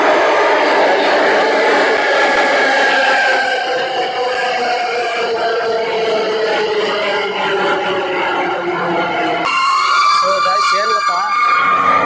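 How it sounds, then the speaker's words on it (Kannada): A metro train pulls into a crowded station with a loud, sustained electric whine that glides downward as it slows, then shifts pitch near the end while people chatter nearby. "ನೋಡಿ ನಮ್ಮ ಟ್ರೈನ್ ಬಂದೇ ಬಿಡ್ತಾರೆ"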